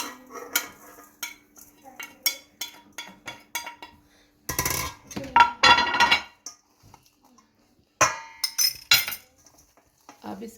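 A spoon clinks and scrapes against a bowl as masala, dry spices and besan are mixed into raw chicken for frying, giving sharp irregular taps and bursts of stirring with pauses between.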